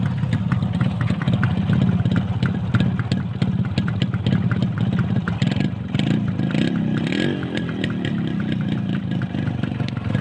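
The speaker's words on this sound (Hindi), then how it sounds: "यामा RX 100 और 135 का ओरिजिनल साउंड।" Yamaha RX100 and five-speed RX135 two-stroke motorcycles idle with original exhausts, a loud, close, continuous burbling putter with rapid uneven firing pulses and a slight swell in the middle.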